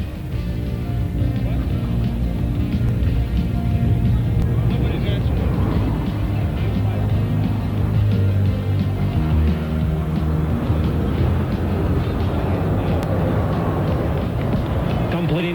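Blue Angels jets fly a changeover roll from echelon formation over San Francisco during Fleet Week 1989, giving off a continuous broad jet roar beneath steady spoken commentary.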